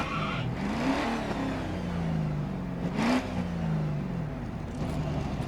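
A V8 Holden race car in Grid Autosport drones steadily, its engine tone rising and falling through two revving swells over a constant whirring roar.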